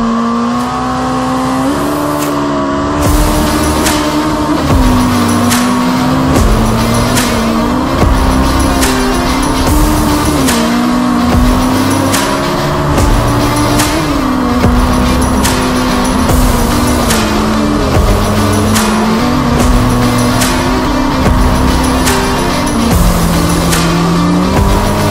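A Legends race car runs hard in fourth gear around the Kauhajoki circuit, its engine a loud, steady drone that rises and falls slightly through corners, with brief tyre noise and no talk.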